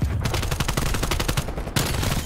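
Rapid automatic gunfire from Call of Duty Cold War, a loud, close burst of evenly spaced shots with a brief break before firing resumes.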